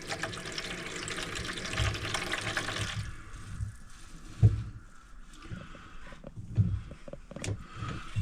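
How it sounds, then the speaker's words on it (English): Water runs from a tap in a skoolie bus water system during a test of the hot side, a steady rushing flow for three seconds that then drops to faint trickling with a few knocks and clunks. "putting out water on the hot water side."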